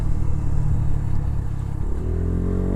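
Herald Brat 125 learner motorcycle engine pulling in second gear near 5,000 revs, a steady close-up drone with low harmonic rumble that rises slightly in pitch toward the end, no talk over it.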